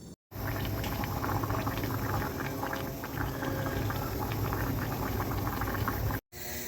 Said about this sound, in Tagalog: Kumukulo na ang ating paksiw.